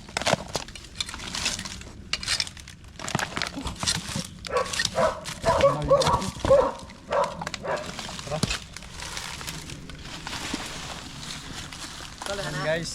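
A dog barks several times in short bursts outdoors at a cobra rescue site, mixed with people talking and rustling nearby.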